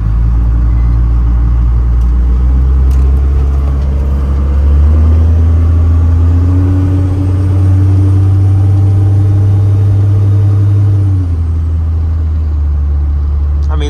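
A first-generation Cummins diesel pickup truck with 140,000 miles idles in good running order, a loud, steady low diesel rumble close by that rises slightly in pitch partway through and then settles, with no talking.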